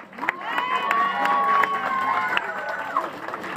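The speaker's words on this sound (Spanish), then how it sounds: "Un aplauso para Mónica" Crowd cheering and clapping at a book fair presentation in Tecate, a lively sustained roar of voices and applause with scattered shouts, loud and close throughout.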